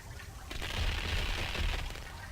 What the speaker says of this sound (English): Let's go ahead and throw a cold grenade at it